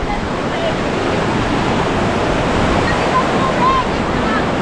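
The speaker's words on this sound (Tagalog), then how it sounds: "Ito tayong Mother Falls." Mother Falls in Baler, Aurora pours with a steady, dense roar of falling water that stays even and loud throughout, with no break.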